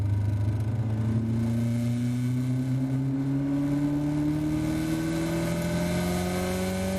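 Caterham race car engine on the Silverstone Grand Prix circuit, a close onboard drone steadily rising in pitch as it accelerates in a slipstream, sustained and loud with no voices.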